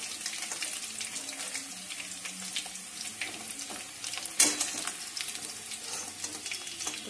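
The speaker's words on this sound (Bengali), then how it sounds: "পকোড়াগুলো ভাজা হয়ে গেছে" Chilli chicken pakoras fry in hot oil with a steady, dense sizzle and hiss that holds at one level throughout, with no talking.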